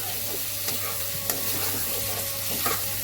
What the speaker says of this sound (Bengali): আমি আলু আর কচুটা কষে নিচ্ছি, অল্প করে জল দিয়েছি।